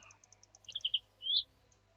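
A cartoon bird in a hidden-object Christmas video game gives a few short, bright chirps and one longer rising tweet, mixed with soft mouse clicks, and no one talks.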